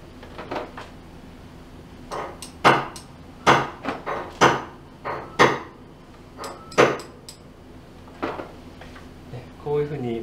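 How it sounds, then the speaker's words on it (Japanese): Yamaha G2E grand piano hammer shanks tapped one by one during an overhaul to sort them by pitch, a sparse series of sharp, close wooden clicks with pauses, each ringing at a slightly different pitch. "このシャンク、この棒自体が、 こう高い音が鳴るのか低い音が鳴るのかっていうのを分けてから"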